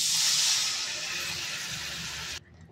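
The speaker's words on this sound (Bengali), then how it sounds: "জল দিয়ে দেবো।" Water is poured into a hot pan of fried spices and potatoes for a Bengali potato and egg curry, making a loud, close steam hiss that holds steady for about two seconds, then cuts off abruptly.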